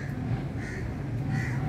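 Crows cawing outdoors, with kites also in the air over a rooftop strung with clothesline wires, several repeated caws at moderate distance over a steady low background hum.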